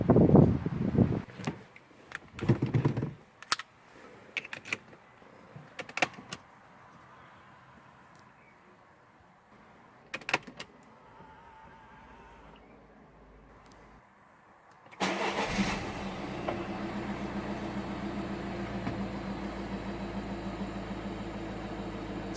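A 2013 Peugeot 3008 with a 6-speed manual has its engine cranked and started after some clicks and knocks, then settles into a steady, close idle hum.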